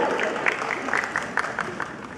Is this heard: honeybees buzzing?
no